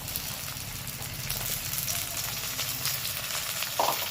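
Sliced radish tossed into a pan of fried onion and garlic, a steady loud sizzle of hot oil close up, continuous with a faint scrape near the end.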